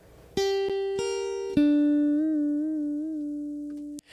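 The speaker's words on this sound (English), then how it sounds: "Sort of that crystalline piezo guitar sort of sound that's pretty popular." Bright, glassy electric guitar notes with a crystalline piezo-like tone, blend knob at 100, ring clearly: a few plucked notes, then one sustained tone with slight vibrato, alone and close.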